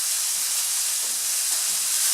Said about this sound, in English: I'm going to add my garlic to the onion now